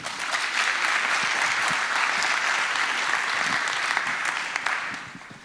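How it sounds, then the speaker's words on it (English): A conference audience applauds the speaker at a talk introducing neural networks with Python: steady, dense clapping from a sizeable crowd sustaining for about five seconds before tapering off. "So please give a big round of applause."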